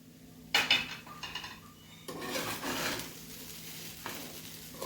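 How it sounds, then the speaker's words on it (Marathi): A spoon stirring sabudana khichdi in a covered pot: irregular metallic scrapes and clinks against the pot in short bursts over a faint background hiss, with no voices. "साबुदाणा आपल्याला झाकून ठेवल्यानंतर मधनं हलवत राहायचं, नाहीतर तो खाली चिटकतो"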